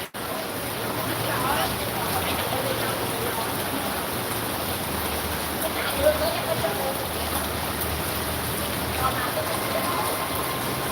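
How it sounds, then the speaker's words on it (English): Heavy rain pours down in Da Nang during the rainy season, a dense, steady hiss of drops on surfaces that holds evenly for the whole stretch, with a faint voice now and then. "It's raining pretty damn good."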